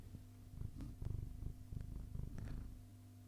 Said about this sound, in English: You hear purring?